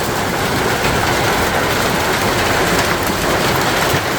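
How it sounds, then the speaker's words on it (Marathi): Heavy rain with big drops drums loudly and steadily on a tin sheet roof, a dense, unbroken roar that fills the room. "घरात पूर्णपणे तडतड आवाज येऊ राहिलाय पात्र्याचा"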